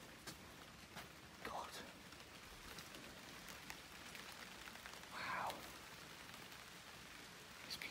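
Heavy rain falling outside a derelict asylum, a steady soft hiss of rain with scattered drips and patters, quiet and continuous, with faint brief voice sounds over it.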